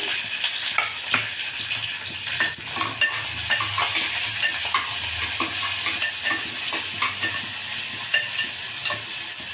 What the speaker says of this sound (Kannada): ಈರುಳ್ಳಿ ಚೆಂದ ಫ್ರೈ ಆಗಲಿ